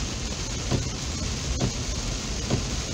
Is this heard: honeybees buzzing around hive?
no